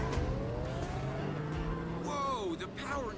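A Koenigsegg Regera hypercar engine in the racing game Need For Speed Payback hums with a steady tone, then rises in pitch as it revs and accelerates, with game speech mixed in.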